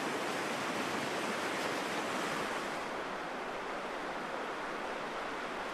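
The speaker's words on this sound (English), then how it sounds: "you'll be greeted by the best rapids on this section" Rapids rush on the Black River in Wisconsin, a dense continuous roar of churning water that holds steady and close throughout, with no voices.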